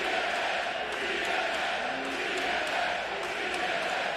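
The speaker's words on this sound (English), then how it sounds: "The crowd, the energy is already starting to set the scales off here." Live wrestling crowd at a TNA knockouts event in Montreal, a steady roar of cheering and shouting voices filling the arena, with scattered louder yells rising above the constant din.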